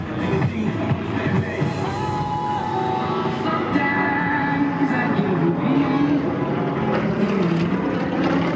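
A Yak-18T propeller airplane performs tight turns and rolls at the Boundary Bay airshow in 2024, its engine droning loud and continuous with a shifting pitch as it maneuvers, and an announcer talking over it.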